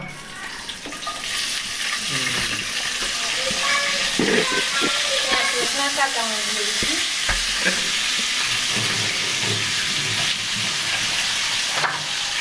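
Large market fish fries in hot oil in a home kitchen, a loud, continuous sizzle and hiss with occasional stirring clatter throughout.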